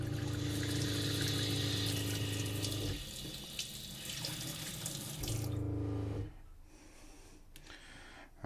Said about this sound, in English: So you'll hear the pump fire up.